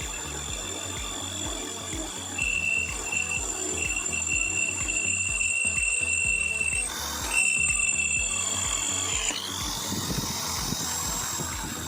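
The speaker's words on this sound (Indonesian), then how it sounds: "Selanjutnya mata bor Naci." A power drill bores with a Nachi 5.5 mm drill bit, giving a continuous high whine that holds steady and then shifts pitch as the pressure changes, over a low rhythmic motor rumble, with no talking.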